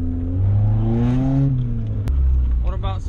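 A Honda Civic converted to four-wheel drive rolls down a steep, freshly dug slope, its engine a steady close drone with rising and falling pitch that continues throughout.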